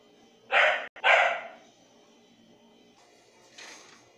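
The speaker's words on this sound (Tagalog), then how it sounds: "Sinsya na po maingay yung aking aso." A pet dog barks twice in quick succession, loud and close, followed by a fainter bark or yip a few seconds later, in a home kitchen with no talk.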